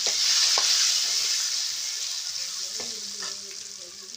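Potatoes sizzle loudly in a pan of hot oil with onion-coriander masala in a traditional village kitchen, a steady frying hiss with a few scraping stirs and clinks of the utensil.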